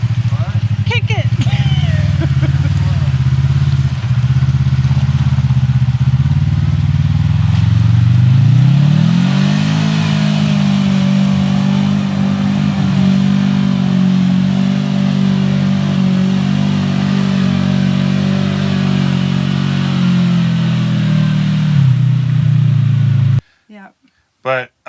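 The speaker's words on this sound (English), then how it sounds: "I'll put a little video in here showing us going through the mud. It was super deep." Off-road vehicle, a Kawasaki KRX, ploughing through very deep mud, with a loud, steady engine drone that rises in pitch partway through as it revs, and voices shouting over it near the end.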